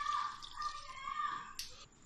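Water splashes and trickles steadily into a cooking pot for yakhni pulao, with a brief brighter splash near the end; quiet and close, no talking.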